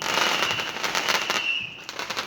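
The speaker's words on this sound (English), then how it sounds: "Look at the fireworks up there." Bonfire night fireworks burst in a quick series of crackling bangs, one whistling rocket trailing through, sounding moderately distant and filling the sky with rapid pops.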